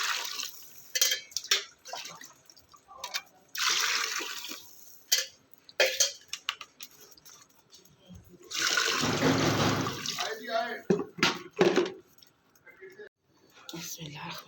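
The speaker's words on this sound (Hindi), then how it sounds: "अब इसमें पानी डाल दूँगी।" Water gushes and splashes into a large pot for making matar pulao in a sustained pour, mixed with soft whispered speech and other kitchen clatter.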